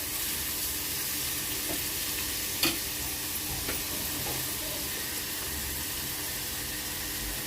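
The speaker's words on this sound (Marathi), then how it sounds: "आणि ह्या तीन हिरव्या मिरच्या घेतल्यात मी त्या अशा मधून चिरून घेतात हे बघा अशा त्या चांगल्या परतून घेऊया व्यवस्थित" Green chillies slit down the middle fry in a hot pan with a steady, even sizzle throughout, broken by a few faint scrapes and one sharper clack as they are stirred.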